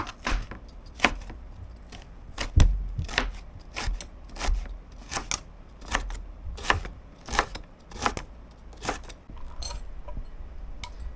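A knife slices fennel on a cutting board, cutting it like an onion in a steady series of crisp chops roughly every half second, close and clear.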